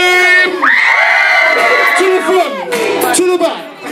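Partygoers at an 18th birthday party scream and cheer together during a dance routine, a loud, sustained, close burst of high shrieks and whoops that rises and fades in waves.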